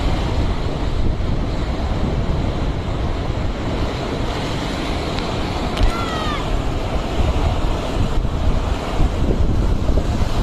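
Rough, storm-driven sea surf pounding the shore as Cyclone Remal strikes, a constant loud roar of breaking waves mixed with heavy wind buffeting the microphone, with no voices over it.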